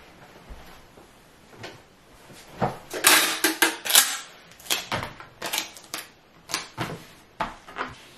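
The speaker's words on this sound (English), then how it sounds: "And then I will tape on the label." Shipping label being taped onto a package for an Etsy sticker order: a string of sharp crinkling and tapping clicks as tape is pulled, pressed and smoothed, close up and uneven in rhythm.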